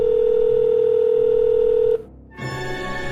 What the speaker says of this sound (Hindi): थोड़ा आगे बढ़कर वो रौनक को फोन करती है, पर वो उसका फोन नहीं उठाता।